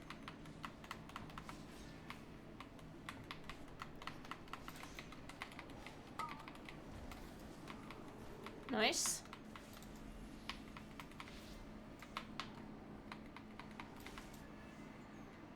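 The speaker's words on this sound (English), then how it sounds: "It's a Corsair keyboard." Typing on a Corsair computer keyboard, a steady stream of fast crisp key clicks at close range, moderately quiet, under a person speaking, with a brief whistling sweep midway.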